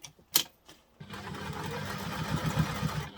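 A sewing machine stitching an X onto the webbing of a reusable duffle bag. A few clicks are followed by a steady, fast mechanical whirring and rattling that continues close by, with no speech.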